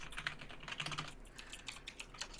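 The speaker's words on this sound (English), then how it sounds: "The clicking, the typing, the clicking, the typing is giving me life." Rapid computer keyboard typing with crisp key clicks in an irregular, busy rhythm, close and fairly quiet, with no voices.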